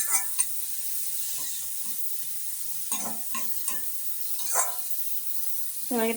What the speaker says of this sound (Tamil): முட்டைக்கோசு, ஆனியன் இதெல்லாம் போட்டு வதக்குறோம்